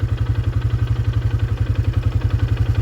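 A 2004 Polaris Scrambler 500 ATV engine idles steadily and close by, its low, even chugging pulses repeating rapidly without pause.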